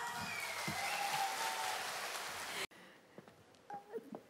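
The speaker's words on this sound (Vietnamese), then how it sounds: "xin một tràng pháo tay nữa được không ạ?" Audience applause at a live bolero concert, a full broad wash of clapping that cuts off abruptly, leaving a quieter room with scattered sounds and a brief voice.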